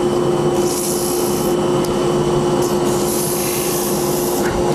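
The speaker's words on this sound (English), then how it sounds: "I crease the sandpaper and I go into the inside and I turn, say, all of the left sides" Creased sandpaper rubs against a wooden bead spinning on a lathe, a loud steady rasping scrape over the constant motor hum, with brief hissing bursts as the paper presses into the bead's side.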